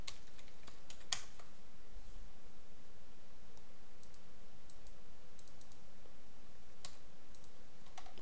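Typing on a computer keyboard while entering data into an Excel spreadsheet, light scattered key clicks over a steady background hiss, with no talking.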